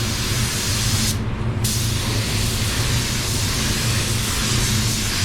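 Spray gun laying down metallic black PPG waterborne base coat over sealer, a loud continuous hiss that pauses briefly near the start and then carries on steadily, close up.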